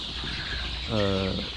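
One short, fairly faint cluck rises over a steady background hiss: agitated chickens at night, disturbed in their coop during a nighttime vaccination.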